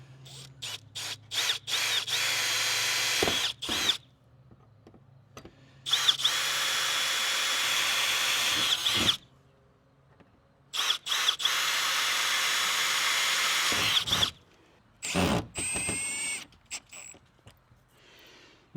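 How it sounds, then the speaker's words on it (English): A power drill whirs in several long bursts, drilling holes in a cargo trailer wall, with short pauses between them, loud and close, with a faint steady hum underneath. "I'm going to go ahead and drill the other 3 holes now."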